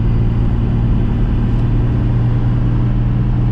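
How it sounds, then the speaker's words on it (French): Nissan Patrol Y60 4x4 cruising on the highway around 90 km/h, a loud, steady cabin roar of engine and road noise with a low hum, constant and close throughout. "C'est un véhicule qui reste vraiment bruyant sur route."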